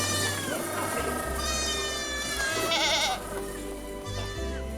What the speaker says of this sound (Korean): 산비탈 뛰어다니는 녀석들은 한 부부가 키우는 흑염소들입니다.